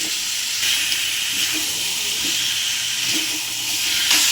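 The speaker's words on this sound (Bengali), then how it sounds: "তো আমি এখানে জল দিয়ে দিলাম" Water is poured into a pan of papaya and potato curry with cooked-down spices, making a steady, close hissing rush that lasts the whole few seconds, with no talk.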